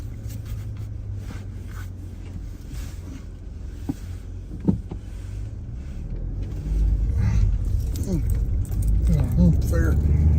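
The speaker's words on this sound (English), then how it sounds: "there's a lot of traffic here" Road traffic rumbles along near Ridgefields Market on Netherland Inn Road in Kingsport, Tennessee, heard from inside a moving car as a low continuous drone that grows louder toward the end, with a few faint clicks and rattles.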